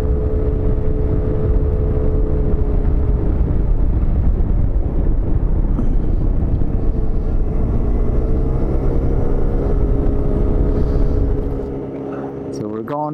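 Vespa Primavera 50cc scooter engine at full throttle climbing a roughly 6% grade at about 22 mph, a loud steady buzzing drone with wind rush that holds constant, then drops off near the end.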